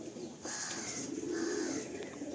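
A pair of Fulsira pigeons of a Chennai breed coo nearby in a soft, throaty burst, one long rolling coo after a brief pause, with no talk over it.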